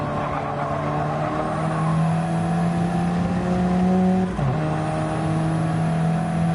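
A Corvette race car engine in Gran Turismo holds a loud, steady high-revving drone while running in the slipstream, with a brief dip and pitch shift from a gear change before settling again.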